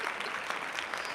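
Dense, steady audience applause fills the whole moment, many hands clapping at once with no pause or voice on top.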